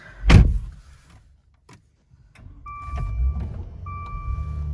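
A heavy door thump, then after a pause the 3.0 twin-turbo engine of a 2018 Maserati Levante cranks and catches, settling into a low idle while a steady electronic chime sounds.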